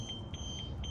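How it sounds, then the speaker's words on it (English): A car security alarm at a vehicle towing and recovery auction gives a steady high electronic beep that pulses in short repeated bursts over a low rumble of background noise. "That's your security alarm."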